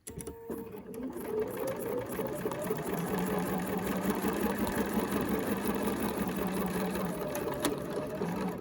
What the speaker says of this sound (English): then you would stitch out the top half